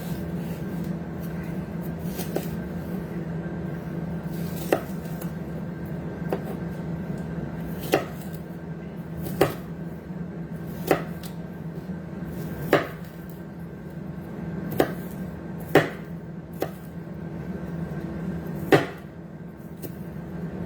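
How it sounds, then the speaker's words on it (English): A knife chops an onion on a cutting board in a cramped home kitchen, giving slow, careful, irregular taps spread over a steady low background hum, with no talk. "I don't have a lot of room, that's why I'm being careful chopping this onion."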